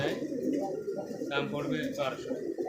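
Giribaz pigeons coo in low, throaty phrases nearby while people talk over them throughout.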